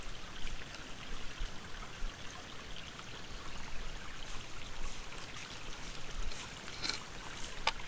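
Creek water flowing at a woodland creek crossing in Alabama, a steady soft rushing trickle with a few faint splashy ticks, fairly quiet and continuous with no speech.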